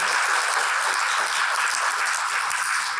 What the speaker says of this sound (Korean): 큰 박수를 한번 좀 부탁을 드리겠습니다